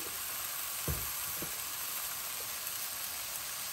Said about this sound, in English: So we're gonna put our ground beef in here.